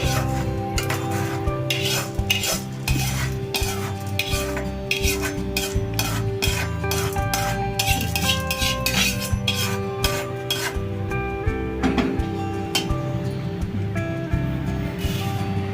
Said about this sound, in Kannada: ಸ್ವಲ್ಪ ಜೀರಿಗೆ, ಸ್ವಲ್ಪ ಕೊಬ್ಬರಿ ಎಣ್ಣೆ, ಇದು ಘಮ ಬರೋವರೆಗೂ ಹುರ್ಕೊಳ್ಳಿ